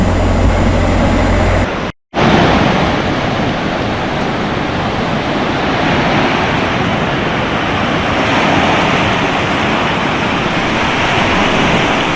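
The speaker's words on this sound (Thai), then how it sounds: "นี่บรรยากาศของทะเลแล้วก็ บรรยากาศที่พัก" Stormy sea surf at a Koh Chang beachside campsite roars as a loud, continuous wash of breaking waves, with wind buffeting the microphone and a brief cut near the start.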